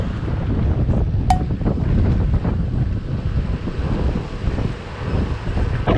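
Strong seaside wind buffets the microphone during a bike ride along the coast, a loud continuous roar with gusty swells and a faint wash of surf beneath.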